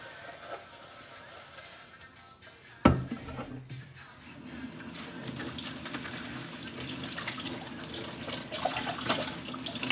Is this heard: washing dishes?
yes